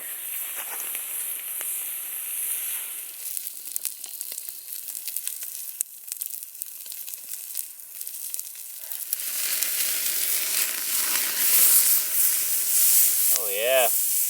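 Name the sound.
steak sizzling on a hot campfire grill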